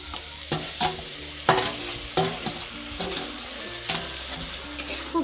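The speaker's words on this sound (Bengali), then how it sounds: "খুব ভালোভাবে নাড়িয়ে চাড়িয়ে মিশিয়ে নেব" Drumstick leaves and potatoes stirred in a pan for a Bengali chorchori, a utensil scraping in repeated strokes over a steady close sizzle of frying, with a few sharper clinks along the way.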